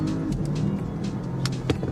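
Porsche Panamera Sport Turismo hybrid accelerating hard at full throttle in second gear with a boost button engaged, a steady loud engine drone with rising tone, close and continuous, no talk over it.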